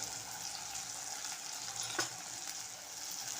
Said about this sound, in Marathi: पाव चमचा घरगुती मसाला घालायचा आहे आणि परतून घ्यायचं आहे